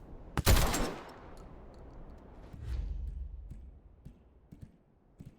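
A loud burst of gunfire in the zombie game Dead Island 2, a quick cluster of sharp shots right at the start, followed by a low rumble and faint scattered knocks.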